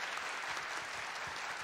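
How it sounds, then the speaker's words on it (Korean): An audience at the 2022 LOA ON Winter event breaks into a dense, even wash of applause, sustained and fairly soft, with no voices on top. "자 박수 한번 주세요."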